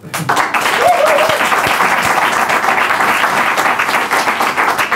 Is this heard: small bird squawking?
no